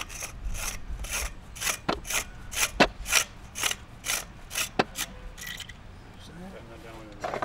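A firefighter threading a 2.5-inch ball valve onto the 2.5-inch threads of a fire hydrant, a series of sharp, rhythmic metallic rasping clicks close up, slowing and trailing off toward the end, with some outdoor background noise.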